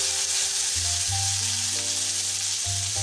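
Dried red chillies and curry leaves fry in hot oil with a loud, continuous sizzle and crackle, close up, while a low tonal hum shifts underneath.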